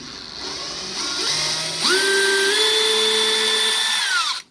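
A cordless drill on its drill setting spins up with a rising whine, holds a steady high-pitched whir for a couple of seconds while removing screws, then winds down, up close.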